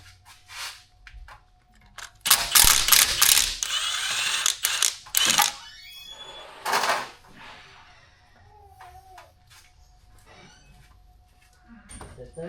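A hand ratchet loosens a 13mm nut on the oil pump pickup tube of a 5.3 Vortec engine, giving a few close bursts of rapid clicking with quiet gaps in between and faint handling noises.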